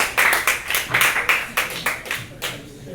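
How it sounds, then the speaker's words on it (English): A live comedy show audience at Epicure claps after Martin Rosendhal's set, with distinct, closely miked hand claps in a brisk, uneven rhythm that tapers off toward the end. "Clap it up for it one more time."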